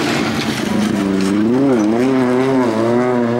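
A rallycross car drifts around a track on the Hønefoss spring race circuit, its engine note loud and close, wavering up and down in pitch as the throttle is worked through the slide.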